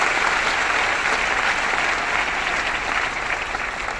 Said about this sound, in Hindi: इसके लिए बहुत बड़ी ताली होनी चाहिए।